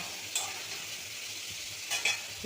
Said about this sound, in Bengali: জিরে, সর্ষে আর কাঁচা পাকা লঙ্কা মিশিয়ে হলুদ লবণ দিয়ে কষিয়ে নিই।